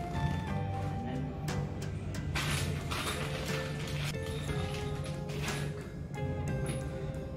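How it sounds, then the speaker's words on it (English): Screws are driven into the ends of an IKEA KALLAX shelf, giving a steady ratcheting, creaking mechanical grind with repeated clicks that runs continuously at close range. "So now we just have to screw these two ends."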